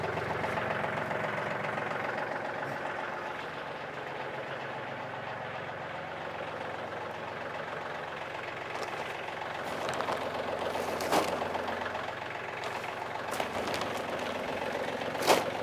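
A WLS350 loader engine idles steadily while test weight is loaded into its bucket. The rumble is continuous and mid-loud, with a few brief clanks and knocks on top and no talking.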